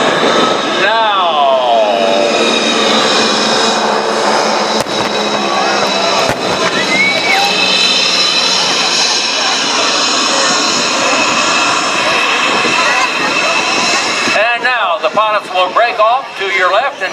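Loud, sustained engine roar of aircraft from the Commemorative Air Force's Tora Tora Tora act passing over a 2023 Homestead airshow, with pitch shifting as planes pass close, and a loudspeaker announcer talking throughout.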